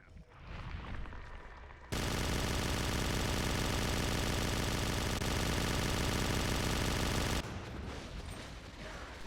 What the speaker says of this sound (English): Gavin once again unloading his entire magazine on PvE with his HMG